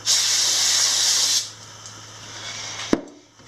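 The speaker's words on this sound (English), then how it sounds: "I'm just going to spray some brake clean on these" Brake cleaner sprays strongly from an aerosol can during an engine rebuild, hissing steadily for over a second, then stopping, followed by a quieter lingering hiss and a small sharp tap near the end.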